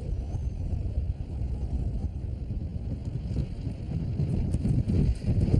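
Strong wind blows outdoors at Fitzroy on an island, a continuous loud rumbling roar with gusty buffeting against the microphone and no voices.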